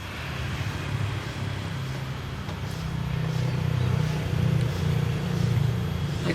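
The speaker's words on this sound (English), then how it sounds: "There were cars going past and I couldn't hear myself." Cars go past on a road beside a small rice paddy, a continuous low traffic rumble that grows slightly louder toward the end, with no talking.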